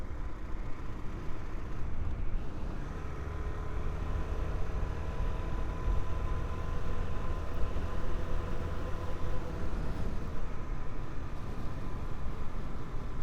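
A 2025 Suzuki DR-Z4S motorcycle rides along with a steady, subdued engine drone blended with broad wind and road noise, holding an even level the whole way through.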